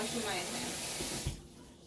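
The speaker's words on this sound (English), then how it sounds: "Washing my hands." Tap water runs steadily over hands at a kitchen sink, a close broadband hiss with a brief splash near the end before the flow cuts off.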